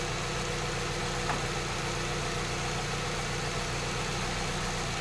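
A Saab 9-3 2.0T engine idles with a misfire caused by a bad ignition coil, giving a steady, continuous mechanical drone that stays close and even throughout with no talk over it.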